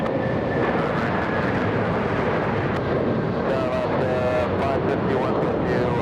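A jet airliner roars loudly during takeoff at LAX, a dense continuous engine rush with wind buffeting, while a voice talks over it and radio chatter comes through faintly.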